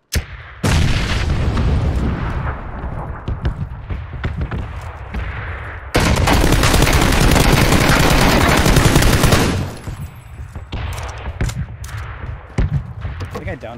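Grenade blast and bursts of automatic gunfire in a PUBG battle royale match, loud sustained explosive roar and rapid rattling shots in long dense stretches, with brief quieter gaps between.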